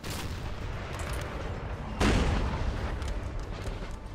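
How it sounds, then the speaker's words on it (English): Artillery fire in the video game Napoleon Total War, where one heavy cannon boom bursts out midway and rolls over a continuous rumble of distant battle. "Oh, nice artillery"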